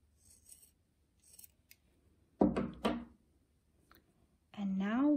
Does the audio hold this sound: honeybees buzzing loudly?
no